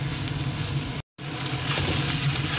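White sauce pasta sizzles steadily as it fries and is stirred in a pan, a continuous close crackle with a brief break partway through.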